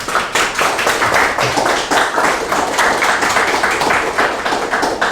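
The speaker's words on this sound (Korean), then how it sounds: "나오셔서 말씀 또 전해 주실 때 큰 박수 부탁드리겠습니다." A conference audience claps to welcome a speaker to the stage, loud and dense, a steady round of applause for about five seconds with no talking.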